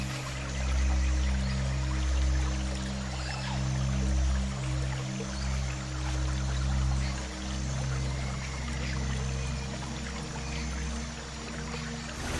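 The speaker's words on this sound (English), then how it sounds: "the bears attempt to snatch the fish mid-air as they leap their way up the cascading" Cascading river rapids where salmon leap upstream, a loud, continuous rushing and churning of water with a deep low roar, steady throughout and with no voices.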